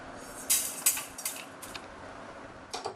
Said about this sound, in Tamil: இப்போ எடுத்து நான் பாத்திரத்தில் கொட்டிக்கிறேன்